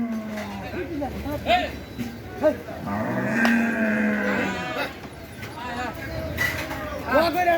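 Cattle moo repeatedly at a crowded village cattle market, with several drawn-out, close lowing calls rising above background chatter and people talking nearby.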